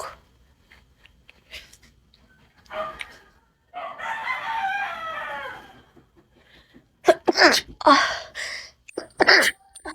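Several sharp allergy sneezes burst out in quick succession, loud and close, separated by quiet pauses and a drawn-out breathy sound.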